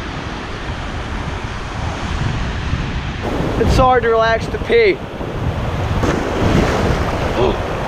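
Wind buffets the microphone at a beach as ice-cold ocean surf rolls and washes nearby, loud and continuous, while someone speaks briefly partway through.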